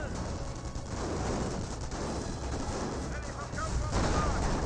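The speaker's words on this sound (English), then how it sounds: "Does destroy the heavy cover there with a point-blank Panzer shot." Battle sounds from the World War II strategy game Company of Heroes, with a Panzer tank firing a point-blank shot among steady gunfire and explosions, loud and continuous throughout under a commentator's voice.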